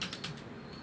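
A few quick keystrokes on a computer keyboard as a file name is typed, faint soft clicks in a short burst, close by in a quiet room.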